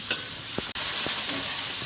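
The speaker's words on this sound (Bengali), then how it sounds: "ওদিকে পটল আলু ভাজা চাপি দিয়েছি" Pointed gourd and potatoes fry in a pan with a steady sizzle, broken by a few sharp clicks and scrapes as a spatula stirs them, close and moderately loud.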